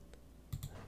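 A single key press on a computer keyboard during modeling in Fusion 360, a quick pair of soft clicks close by and faint, with no talk.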